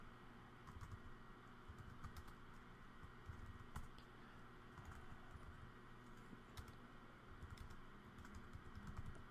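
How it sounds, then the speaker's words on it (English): Faint, steady typing on a computer keyboard while entering text: quick irregular key clicks run continuously for about nine seconds against quiet background noise. "I'm just typing in all of the different pieces directly from the slide."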